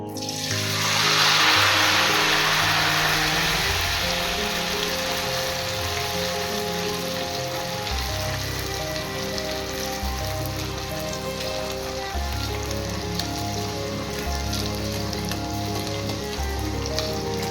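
Sago batter dropped into hot oil, giving a loud, steady sizzle and bubbling hiss that runs continuously with a low rumble underneath and no voices.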